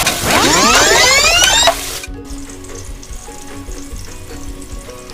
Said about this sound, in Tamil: இது கூடவே ஒரு நாலு பச்சை மிளகாய் சேர்த்துக்கலாம் சேர்த்துட்டு நல்லா இதை நல்லா ஃப்ரை பண்ணி விட்டுறலாம்